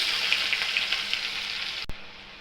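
Chopped onion sizzles steadily in hot oil for paneer biryani, a loud, close, even frying hiss that cuts off abruptly near the end.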